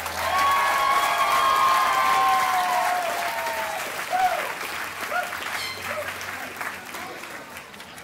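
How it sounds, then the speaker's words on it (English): Applause from the audience at a 2010 USC graduate commencement ceremony, loud and sustained, then tapering into scattered clapping. Voices and tones over the public address system ring out at the start. "Let's give a round of applause to our MHA candidates."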